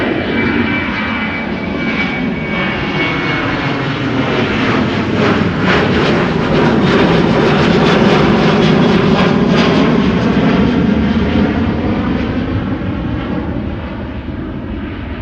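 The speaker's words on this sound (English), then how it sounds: "China Airlines flight 74 to Taipei in Taiwan." A China Airlines airliner on flight 74 to Taipei roars at Amsterdam Schiphol Airport, a loud sustained jet engine rumble that swells and sweeps past with shifting whine, then slowly eases.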